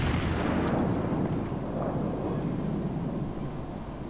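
Battleship main guns fire in World of Warships, a deep rumbling boom that rolls out and decays slowly into a steady low roar of naval combat ambience, with no talking.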